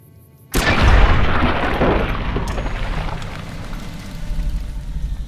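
A gun fires at a bighorner in the video game Fallout New Vegas: one sudden loud blast after near silence, followed by a long rumbling tail that fades slowly, with no talking.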